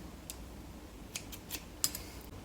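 Scissors snipping hair during an at-home haircut, several quick, crisp, faint cuts spaced irregularly over a quiet background hiss.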